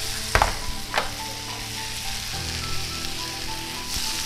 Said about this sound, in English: Let that baby sear all the way around.